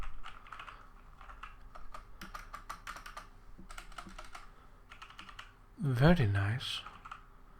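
Rapid, steady clicking of someone typing on a Logitech G413 mechanical keyboard, whose switches feel like a softer Cherry MX Black or a Cherry MX Brown, close and fairly quiet, with a brief spoken comment near the end.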